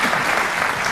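An audience at a Sudan cultural day event applauds, a short burst of dense, loud, continuous clapping from a room full of people.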